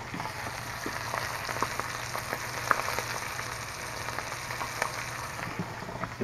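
Steak searing in an iron skillet over nearly high heat gives a steady, even sizzle with scattered small pops and crackles, moderately loud and close, with no voices.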